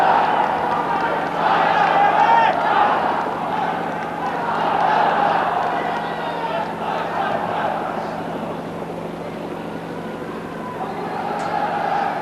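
Crowds of spectators line the Tyne Bridge for the Great North Run, a broad, sustained roar of cheering that swells and eases under a commentator's voice.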